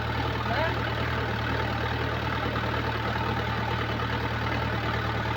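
A tractor pulling a sprayer runs steadily while weeds are sprayed in a vegetable garden, its engine a continuous loud rumbling drone with a strong low hum that holds evenly throughout.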